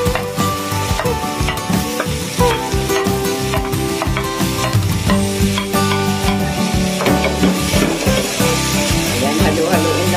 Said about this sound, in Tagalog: Gisa natin ang luya. Ayan. Tapos sabay naman natin ang sibuyas.